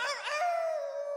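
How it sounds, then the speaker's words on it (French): A stray dog howls in a French cartoon, a single drawn-out, wavering howl that settles into a long steady tone, clear and close with no speech over it. "Ça doit être un chien errant."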